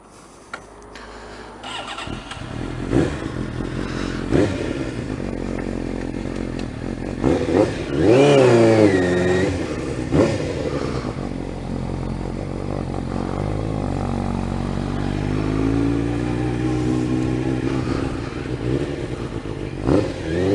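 An old Suzuki GSX-R 600 SRAD motorcycle with a flat-spot fault starts, then idles loudly and close by. Its engine is blipped through several sharp rising and falling revs before settling into a rough, uneven run.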